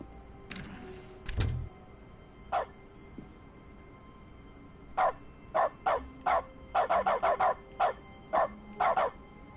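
A dog barking in dog mode of The Stanley Parable: single sharp barks, a few spaced early on, then a rapid cluster of repeated barks with short gaps, clear and close over a quiet background.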